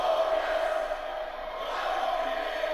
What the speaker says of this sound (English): The crowd singing along with the song